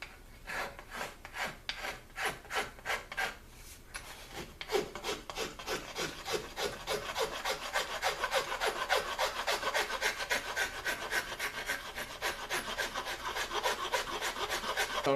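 Hand file working the wooden grip of a Lyman Great Plains pistol kit, close, steady rhythmic rasping strokes that are slower and spaced at first, then faster and denser.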